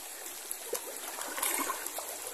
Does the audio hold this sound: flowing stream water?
yes